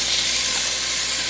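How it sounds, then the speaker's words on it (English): Steady, close hissing and crackling of plant-based kabobs frying in a hot pan, continuous and fairly loud throughout. "Listening to this sizzle"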